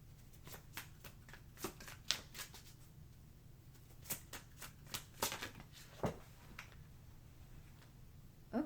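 Goetia tarot deck being shuffled by hand, a faint series of soft card flicks and taps at uneven intervals, close up in a quiet room without talk.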